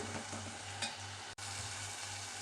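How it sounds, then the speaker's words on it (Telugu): Brinjal pieces drop into a pan of softened tomatoes and get stirred, giving a steady close sizzle with one sharp clack partway through and no talking. "ఇప్పుడు మనం ఇందులో వంకాయ వేసేసుకుందాము"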